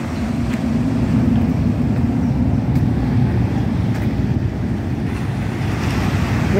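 Surf rolls continuously against a shoreline at night, a loud, dense wash of breaking waves mixed with wind buffeting the microphone, steady throughout with no voices.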